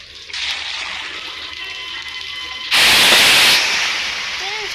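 Water splashing in the horror game Granny 2, a sudden loud burst of churning splash lasting under a second, rising out of a steady hissing ambient background before fading back down.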